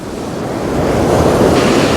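Black Sea waves wash onto the shore in a continuous, loud roar on a winter day at Chornomorsk, with wind buffeting the microphone and no voices.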